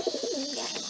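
A black and white male roller frill cross pigeon coos close by, a short run of low, soft throaty warbles lasting under a second.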